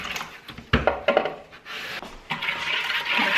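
Vinegar pours into a jar for pickled eggs, a close, splashing glug of liquid with a few glassy knocks and clinks, the trickle swelling toward the end.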